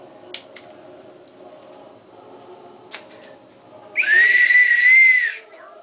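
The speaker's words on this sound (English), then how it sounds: "It's a slide whistle." A wooden slide whistle blown while its slide moves in and out gives one loud, sustained, slightly wavering whistled tone lasting over a second, after a few quiet clicks and taps.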